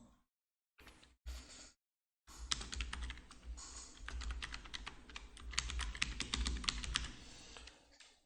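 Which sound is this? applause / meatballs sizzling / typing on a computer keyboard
typing on a computer keyboard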